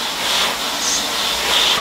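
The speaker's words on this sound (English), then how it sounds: "it gives out a heck of a lot of steam." A Tefal Pro Express Protect GV9230 high-pressure steam generator iron lets out a loud, steady, close-up hiss of steam that holds without a break.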